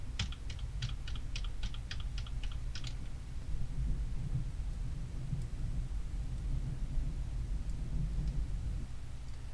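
Computer keyboard keys pressed for copy and paste in video editing software: about ten quick, evenly spaced clicks close by at the start, then only a low steady hum.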